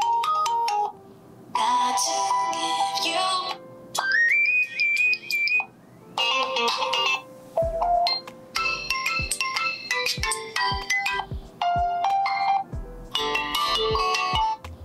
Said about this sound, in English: let's test the speaker, because I would like just to hear the sound